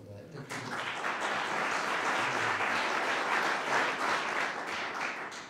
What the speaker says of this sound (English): I would like to give you a round of applause for that